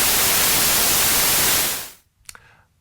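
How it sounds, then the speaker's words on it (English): Loud, steady white noise static like a TV tuned between stations, a broad hiss that fades out after about two seconds, followed by a faint brief tone. "The answer is white noise."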